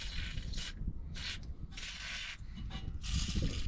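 Bursts of ratcheting from a ratchet working loose 12mm bolts on a Nissan 300ZX twin turbo clutch, several short clicking runs separated by brief pauses, close and moderately loud.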